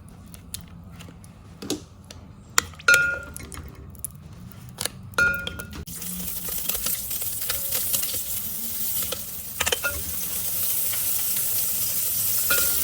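Margarine melting and sizzling in a frying pan with oil before spices are sautéed, a steady close hiss that thickens after a few seconds, with occasional clicks and utensil knocks and no talking.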